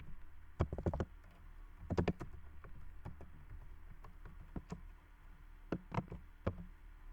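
Someone types on a computer keyboard in short, quiet clusters of key clicks separated by pauses, close up in a hushed room.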